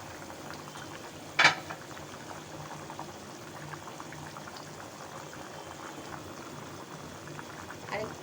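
Tengra fish curry with pumpkin bori simmers in a covered pot, a soft, steady bubbling hiss kept low throughout, with one sharp clink near the start and a faint tap at the end.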